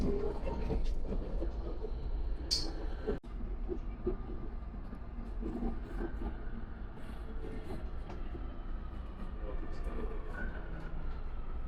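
Steady rumble and rolling noise inside a Panama City Metro Line 2 train while riding, heard from within the car, with a brief clunk partway through and people talking over the constant hum.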